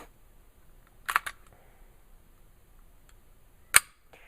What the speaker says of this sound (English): you have the ability to put your safety on, like so, and run your action.